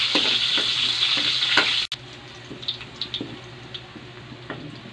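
Garlic browning in a frying pan, a bright sizzle with stirring scrapes that cuts off abruptly, followed by quieter faint crackles and small clinks.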